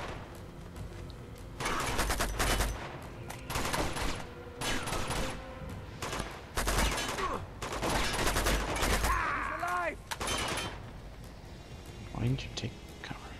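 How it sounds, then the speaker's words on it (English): Rapid bursts of gunfire from Uncharted 2 crackle in clustered volleys, loud and close, with quieter gaps between, and a voice murmurs in places. "this is just good place as any to start firing shots"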